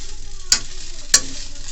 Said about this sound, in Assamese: মই ৰচুনকেইটা ভাজিয়ে দিম বাৰু দেই।